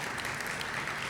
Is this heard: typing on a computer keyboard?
no